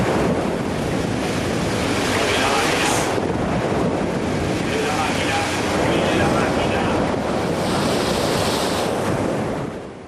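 Ocean waves of about 4.5 metres and 45-knot winds battering a ship at sea, a loud continuous roar of surf and buffeting wind filling the whole stretch with surges of crashing water.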